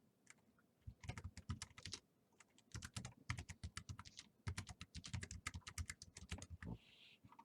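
Someone types a project name on a computer keyboard, a close run of quick, uneven key clicks in short bursts with brief pauses between them, and a small thump near the end.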